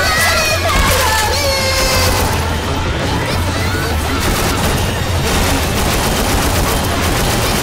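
Dense, continuous gunfire from the video game Left 4 Dead 2, with rapid overlapping shots and bursts filling the whole stretch at steady high loudness.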